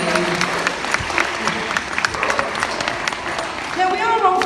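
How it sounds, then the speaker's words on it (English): Audience applause at an afternoon sea lion show, steady clapping from a crowd at moderate level with voices and a few whistles or calls mixed in toward the end. "But do give Arthur a big round of applause for his shark impression"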